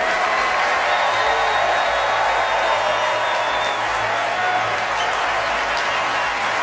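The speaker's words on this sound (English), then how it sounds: "Everybody, please join me in giving Meryl Streep a totally undeserved round of applause, will you?" Oscars audience applauding Meryl Streep at the 2017 ceremony, a dense, steady wash of clapping and crowd noise that holds at an even loudness throughout, with a faint whoop or two inside it.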